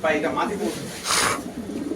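Female racing pigeon cooing nearby in repeated soft, low coos, with people talking over and around the calls.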